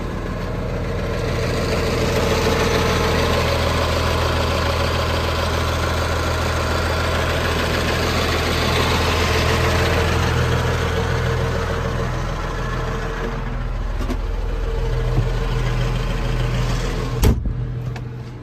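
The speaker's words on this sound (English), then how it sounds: "I've had this tractor running about 10 minutes now" A 1992 John Deere 4055 tractor engine idles steadily with a deep, throbbing rumble and constant vibration, then a sharp knock near the end.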